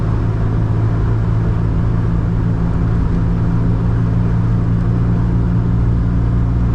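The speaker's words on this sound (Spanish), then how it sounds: "Tiene un sonido muy profundo, un ronroneo del motor M110 que se oye espectacular." A Mercedes W116 280SE's M110 engine runs at a steady idle, a loud, deep, even rumble with a smooth purr that holds constant and unbroken.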